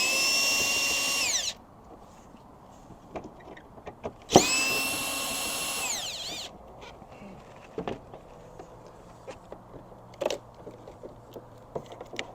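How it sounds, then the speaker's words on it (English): Power drill removing screws from the third brake light of a fifth-generation Toyota 4Runner, two loud whirring bursts separated by a pause, followed by faint clicks and handling noises. "Now removing, you can use a drill."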